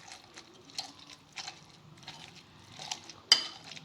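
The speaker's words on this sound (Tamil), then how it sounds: "அதை நல்லா நம்ம இப்போ ஸ்மாஷ் பண்ண போகிறோம்" Roasted eggplant being mashed in a bowl, with scattered soft clinks and scrapes of a utensil against the bowl, faint and close, several brief taps spread irregularly and one sharper knock near the end.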